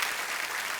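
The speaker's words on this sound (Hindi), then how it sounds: "जोरदार तालियां सुनिधि और हितेश के लिए" A studio audience on a comedy TV show set breaks into a brief wash of clapping, soft and continuous for under a second.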